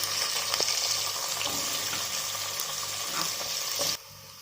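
Onions fry in hot oil in a pan for a stingray fish curry, giving a steady close sizzle with occasional stirring scrapes before the sound drops off abruptly near the end.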